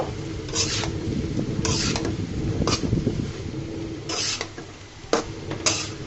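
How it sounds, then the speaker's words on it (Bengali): Chopped snake gourd (chichinga) being stirred in oil in a pan, several distinct scraping strokes of a spatula over a low, continuous frying rumble, close up and without talk. "দিয়ে দেওয়ার পরে আমি সুন্দর মতো তেলের সাথে নাড়াচাড়া করে মিশিয়ে দিব"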